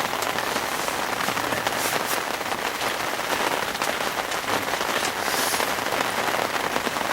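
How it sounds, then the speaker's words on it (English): Rain pours hard at a fishing venue at Todber Manor, a thick, constant hiss of close, heavy rainfall with occasional louder spatters and no voices. "started lashing it down."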